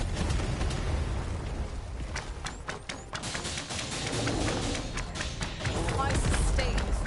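Explosions during a boss fight in the video game Dragon's Dogma 2, dense booming thuds and crackling bursts layered over a continuous roar of combat sound and music.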